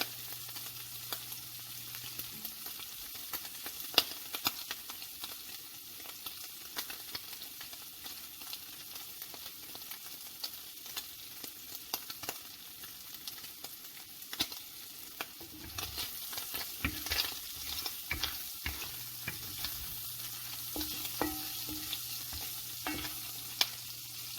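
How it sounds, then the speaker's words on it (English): Fat renders in a pan for fried cabbage, a soft, steady low sizzle with faint crackles and occasional scraping from stirring, quiet and close, with no one talking. "I just want the fat to render off a bit, and then it's perfect for the cabbage."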